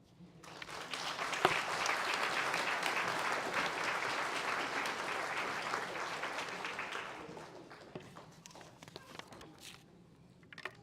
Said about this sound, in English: we ask that you please hold your applause